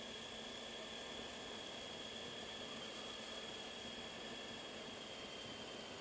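A motorcycle engine drones steadily while riding on a touring route along Scotland's North Coast 500, with a constant rush of wind noise over a low, even engine hum and no talking.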